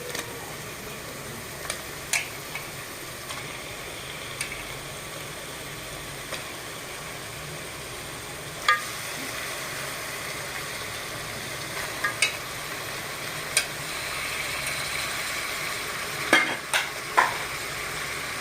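Washed chicken pieces frying in a pan with masala, a soft steady sizzle with occasional scraping stirs and clinks of the spoon, fairly quiet and without talk.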